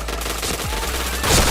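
A short burst of video game gunfire, a rapid volley of close shots over a steady game background, with a louder hit at the end.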